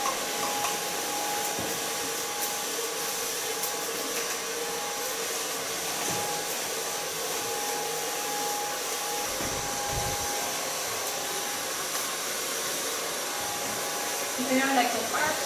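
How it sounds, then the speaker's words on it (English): A handheld hair dryer blows steadily while styling hair with brushes, a loud continuous whooshing drone holding nearly unchanged for the whole stretch, with faint handling knocks near the end. "and the same hair dryer"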